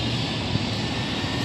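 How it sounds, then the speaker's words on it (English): An airliner taking off at Cologne-Bonn Airport, heard as a steady, loud broadband engine roar that holds even throughout a short stretch. "there's a plane taking off"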